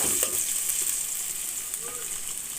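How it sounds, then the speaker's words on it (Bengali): Ginger paste sizzling in mustard oil in a pot while cooking tehari, a continuous hissing fry at moderate level with faint scraping from stirring underneath. "আদা এবং পেস্টটা ভাজা হয়ে আসছে"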